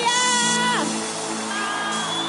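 A crowd at a Catholic charismatic youth concert cheers and whoops over sustained musical tones, a lively wash of voices that sounds at a moderate distance.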